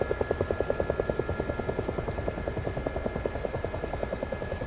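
A helicopter flies low over an air show, its rotor beating in a fast, steady rhythmic thump that holds at a moderate, even level throughout.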